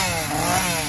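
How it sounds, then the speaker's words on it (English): A chainsaw drones continuously at a Howl O Scream haunted Halloween event at Busch Gardens, a loud, steady buzzing engine held close by with no break. "Chainsaws!"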